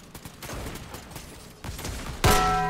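Rapid bursts of gunfire in a Fortnite match, sharp repeated shots clustered in quick volleys, ending with a louder close blast and a ringing metallic tail.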